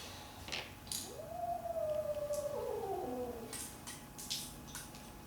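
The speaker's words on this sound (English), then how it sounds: "Cat isn't happy out there." A cat yowls outdoors in one long, drawn-out, wavering cry that rises and then slides downward, with faint background noise and no talking.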